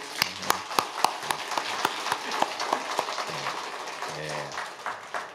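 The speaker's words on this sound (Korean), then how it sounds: "올 거니까 우리 슬기 잘하라고 우리 격려의 박수" Scattered, uneven hand claps ring out in a church gathering at a special early-morning service, sounding sparse and fairly close, with faint background murmur.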